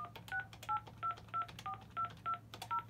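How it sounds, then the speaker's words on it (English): An IP phone keypad sends a regular series of about nine crisp dialing tones, each short beep evenly spaced and close, over a faint steady hum. "I didn't dial the whole number there."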